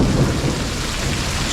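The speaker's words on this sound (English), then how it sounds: "The thunder is really high pitched and it's really close." Heavy rain pours steadily during a Bangkok Chinatown thunderstorm, with close, loud thunder rumbling through the downpour; dense, continuous roar with no talking.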